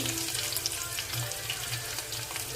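Mustard seeds, cumin, dried chillies and garlic frying in oil for a tempering, a close, steady crackling sizzle with scattered pops, loud and continuous without speech.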